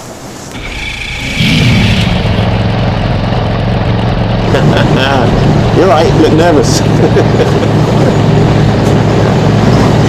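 The engines of a Tyne class lifeboat start up and settle into a loud, steady, droning rumble, heard close aboard with people talking over it.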